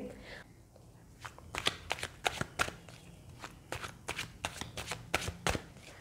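Tarot cards are shuffled by hand in a quick series of crisp riffling snaps and flutters, close and fairly quiet, with soft pauses between bursts.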